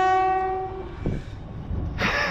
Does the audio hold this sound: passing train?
yes